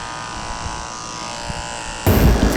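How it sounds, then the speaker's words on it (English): Electric clippers shaving a Yorkie's fur: a steady close buzz that grows sharply louder and rougher in the last half second as the blades bite into the coat. "so I'm shaving out underneath her tail."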